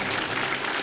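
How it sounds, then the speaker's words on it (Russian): Studio audience of a Ukrainian talk show applauding, a dense continuous wash of many hands clapping, steady and full for under a second. "Вам аплодисменты."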